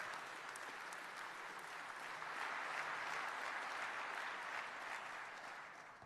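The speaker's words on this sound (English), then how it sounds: "please join me in a round of applause for all of our outstanding" An audience applauds at an Army address in a large hall: dense, steady clapping fills the whole stretch, swelling slightly in the middle before easing off, fairly distant and without voices.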